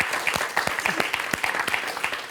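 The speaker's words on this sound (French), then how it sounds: "On va vous applaudir quand même" A quiz show studio audience gives brief, lively applause, dense clapping for a couple of seconds with faint voices underneath.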